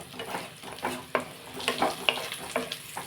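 Sliced bitter gourd (kakarakaya) frying in a pan, a soft continuous sizzle broken by scraping stirs and light clinks of the spoon, close and fairly quiet.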